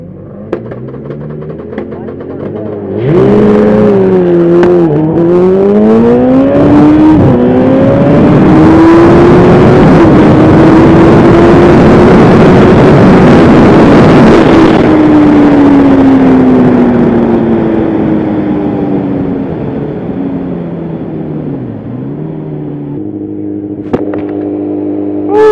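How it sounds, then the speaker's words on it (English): A Kawasaki ZX14R motorcycle roars through a long burnout, its engine revving hard and holding a loud, sustained high-pitched wail that climbs, plateaus and then winds down, with crowd noise and voices around it. "First time doing a burnout."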